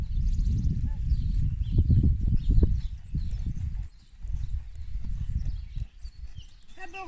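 Hooves clip-clop at a slow walking pace on soft ground, close by, with a person speaking and giving instructions in between.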